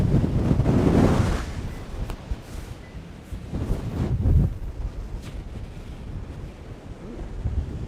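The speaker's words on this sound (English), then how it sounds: "It is a little bit windy." Gusty late-night wind in lake-effect snow in Western New York buffets the microphone in loud, rumbling bursts that rise and fall, with quieter stretches between the gusts.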